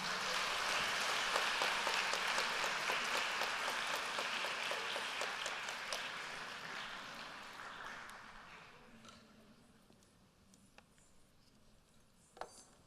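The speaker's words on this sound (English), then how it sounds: "Another huge round of applause for Chaithra." An audience at a Bharatanatyam dance debut claps loudly at first, then the applause gradually thins and fades away, leaving a few scattered claps and faint clinks at the end.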